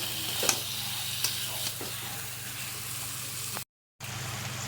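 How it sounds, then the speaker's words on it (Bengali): Goat meat frying in ghee in a pan, a steady close sizzle broken by a few stirring scrapes and clinks, cutting out briefly near the end. "দেখো এবার মাংসটা দিয়ে ভালো করে নাড়বো মাংসটাকে ভালো করে কষিয়ে নিতে হবে"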